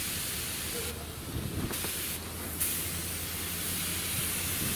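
A spray gun hisses continuously, with bursts of sharper airy spraying over a low mechanical hum.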